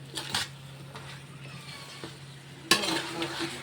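Stirring in a cooking pan in a home kitchen, with a few scraping knocks of the spoon against the metal and a louder clatter near the end over a faint background hum.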